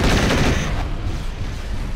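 Loud weapon fire from a mech in MechWarrior 4: Vengeance, aimed at rocket launchers, bursts sharply and then trails off into a rumbling decay with no talk.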